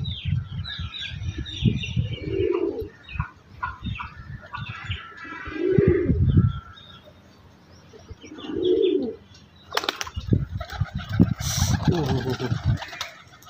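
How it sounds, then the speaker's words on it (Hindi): Pigeons, including a wild female, coo in low, repeated throaty bursts at a steady spacing, with a person talking nearby and a brief flutter toward the end. "ये जंगली जो कबूतरी है, ये बार बार हमारे घर आ रही है, कबूतर के पास आ रही है।"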